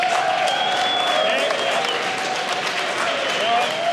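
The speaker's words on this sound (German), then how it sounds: "Einmal klatschen" An audience at a gamescom LAN event in Germany claps and cheers together, a steady, loud, sustained burst of applause with whoops mixed in throughout.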